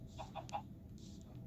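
Chickens in a farming video game give a few soft, quick clucks and then a brief higher squawk, faint and low over a quiet background.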